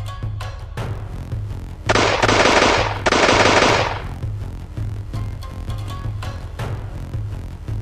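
Musket volleys in an animated feudal Japanese battle crack out as dense, loud bursts of rapid shots, with two heavy sustained salvos in the middle and scattered single reports before and after.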